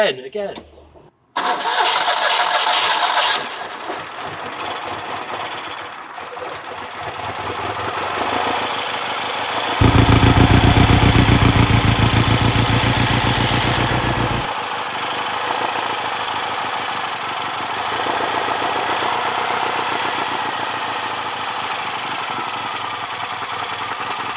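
An old 1963 Citroen 2CV engine, long abandoned, cranks, catches and roars to life, then settles into a loud, rough idle, with people talking excitedly over it.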